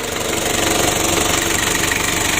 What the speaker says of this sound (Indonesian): Nah begitu, masih serasa panjang starternya.